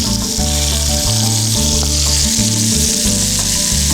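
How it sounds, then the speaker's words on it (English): Shallots and garlic hit a hot pan already used for tenderloin steak and hiss loudly and continuously up close, a dense sizzle with irregular spatters and no voice over it. "And now, I'm gonna introduce the shallots and the garlic to the pan."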